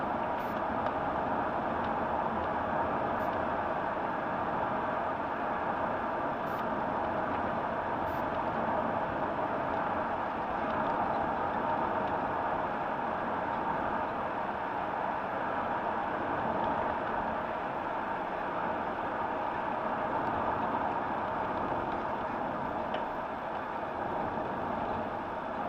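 Steady cabin drone from a BMW 528i SE automatic driving along a road, a constant low engine and tyre rumble that holds at an even level for the whole stretch, with no talk.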